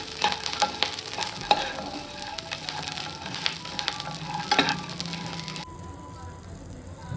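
Curry leaves and dry fruits fry in hot oil while being stirred, a crisp crackling sizzle broken by repeated sharp clinks and scrapes of the spoon against the pan, close up, cutting off near the end.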